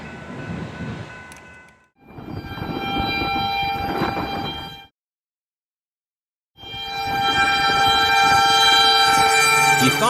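Train rumbling past on railway tracks near a level crossing, loud and close with horn-like tones, in two bursts separated by a few seconds of silence.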